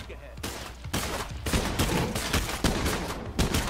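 Rapid gunfire aimed at a juggernaut zombie in State of Decay 2, several close, loud bursts overlapping in a steady barrage.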